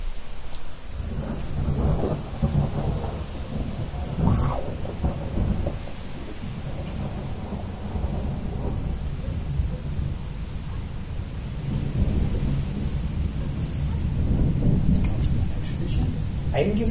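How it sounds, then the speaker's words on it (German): Thunder rumbles low and rolling through an autumn thunderstorm in Manschnow, Germany, with rain falling steadily and rumbles swelling now and then. "ein schönes Gewitter"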